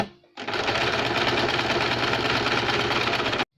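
Sewing machine running steadily as a double seam is stitched on a double katori blouse, a continuous close mechanical whirr with rapid needle rhythm starting after a brief pause and stopping abruptly at the end.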